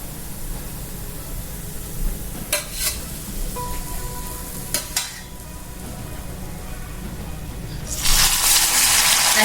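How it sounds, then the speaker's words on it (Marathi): Aloo poha cutlets frying in hot oil give a steady close sizzle, punctuated by a few sharp clicks. The crackle swells much louder near the end. "असेच आपण बाकीचे राहिलेले कटलेट सुद्धा तळून घेऊया."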